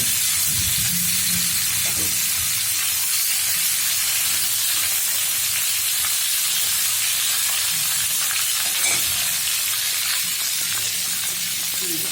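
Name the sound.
frying green banana in a pan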